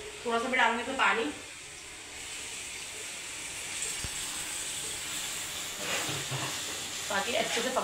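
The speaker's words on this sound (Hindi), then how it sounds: "थोड़ा सा मैं डालूंगी इसमें पानी।" Water is poured into a hot cooking pan on a home stove and a broad steady hiss of sizzling steam follows, moderately loud, with a voice speaking at the start and end.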